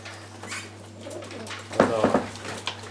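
Pigeons in a breeding loft give a few soft, close coos that swell in a short burst near the middle over a low steady hum, with faint rustling before.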